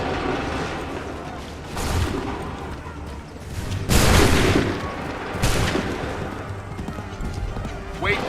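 Musket volleys crack and boom in Assassin's Creed III, several loud broadband blasts at irregular intervals amid battlefield din, with shouted commands over the top.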